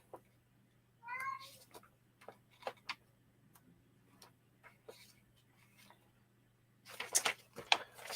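A cat meows briefly and faintly early on, with soft ticking and scattered small clicks around it and a louder rustling burst near the end, in a quiet room while a large Juhang 671 chess-themed brick set is built.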